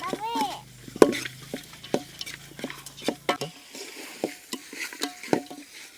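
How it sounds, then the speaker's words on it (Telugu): A spoon scrapes and knocks against a pot in irregular strokes while thick country-chicken curry with red chilli gravy is stirred, with a faint sizzle underneath. "ఈ మొక్కల మొత్తానికి మనం వేసుకున్న గ్రేవీ మొత్తం బాగా పట్టేదాకా కలుపుకోవాలా"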